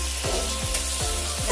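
Potato and cauliflower vegetable fry cooking in a pan over a wood fire: a steady, close hiss of sizzling oil, punctuated by a few regular scraping strokes as the food is stirred.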